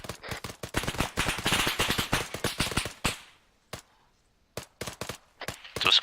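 Machine gun fire during special forces detachment training, rapid loud bursts of rounds for about three seconds, a pause with a single shot, then more short bursts close by.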